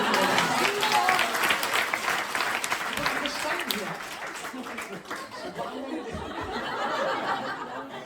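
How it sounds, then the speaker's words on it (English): Audience applause at a spiritual lecture on the Bhagavad Gita, a dense wash of clapping mixed with chuckles and crowd chatter that fades gradually toward the end, with voices talking over it. "Give him a round of applause."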